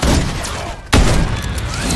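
A single sharp gunshot cracks out mid-clip in Rainbow Six Siege, loud and close, amid constant dense game noise and other muffled gunfire.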